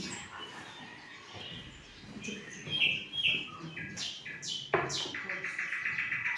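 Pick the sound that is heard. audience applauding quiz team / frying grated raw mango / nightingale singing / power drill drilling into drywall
nightingale singing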